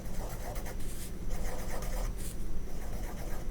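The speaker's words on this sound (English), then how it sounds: "when I actually draw here, you can probably hear it" Pen stroking across a glass iPad screen, a soft continuous scratchy rubbing with faint rhythmic strokes, close and quiet with no talk.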